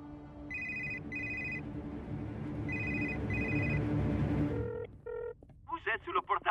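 Mobile phone ringing in a cartoon, a repeated electronic two-tone trill in short bursts over a background of crowd noise and music, followed by short beeps and chirpy tones at the end.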